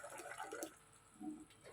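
Water poured from a vessel into a cooking pot for karhi pakora, a soft, fairly quiet splashing and trickling in two short bursts, with no talking.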